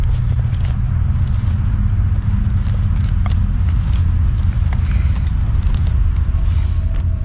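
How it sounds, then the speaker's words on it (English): Footsteps tramp around just outside a tent at a campsite, a steady run of heavy, scuffing steps close by over a dense low rumble, with no voices. "the footsteps outside seem to get louder and louder"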